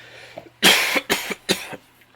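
Three harsh coughs in quick succession, close and loud, with a faint low hum in the background.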